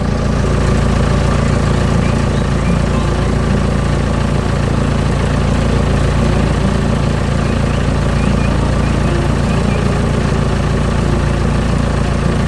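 A green construction machine working hard on brown soil in a cartoon gives off a steady, loud, low engine drone that idles on without a break.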